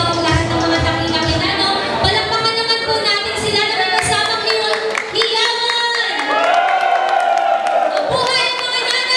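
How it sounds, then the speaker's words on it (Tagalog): A crowd at a charity convention applauds and cheers for mothers, with loud sustained clapping, whoops and shouts from many people while an amplified voice carries over the noise. "Palakpakan naman po natin sila na may kasamang hiyawan!"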